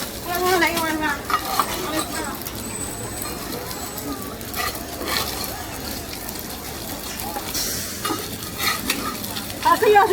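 Pan-fried shui jian bao buns sizzle in a pan at a street stall in Beijing's Hongmen market, giving a steady, close frying hiss with occasional bursts, while vendors and customers talk nearby.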